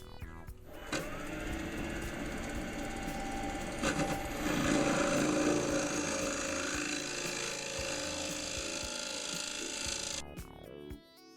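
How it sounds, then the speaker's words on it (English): Lathe hollowing cuts on an elm bowl: a steady, continuous scraping hiss with a whining tonal hum, close and fairly loud throughout, stopping abruptly near the end. "I'll just carry on for a bit just with these hollowing cuts"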